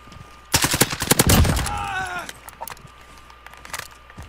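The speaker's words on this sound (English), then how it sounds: "I don't know what happened to the AMAX, but there's so much recoil on it now." AMAX rifle fire in the Call of Duty Warzone video game comes as a rapid, loud burst of close shots lasting about a second. A ringing tail and faint scattered game sounds follow.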